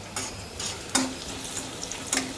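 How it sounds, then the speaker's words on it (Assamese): A paste of potato, tomato, ginger, garlic and dried chilli fries in a pan with a soft, steady sizzle, broken by a few sharp utensil scrapes and taps. "এয়া মই অকণমান ভাজি আছোঁ"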